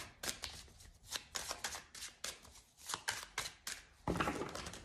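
A deck of playing cards cut and shuffled by hand, a quick series of crisp riffling flutters and snaps in uneven bursts, close and fairly quiet with no talking.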